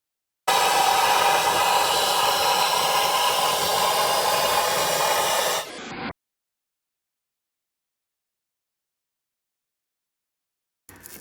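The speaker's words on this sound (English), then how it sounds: "we're gonna go ahead and do the vacuum also at the same time to catch any remaining dust" A vacuum cleaner fitted with a brush attachment runs steadily while cleaning dust from a Sub-Zero refrigerator condenser coil, a loud even whoosh that stops abruptly after several seconds, leaving near silence.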